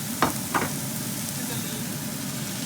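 Vegetable chow mein stir-fries in a hot pan, a continuous close sizzle with two quick spatula strikes near the start.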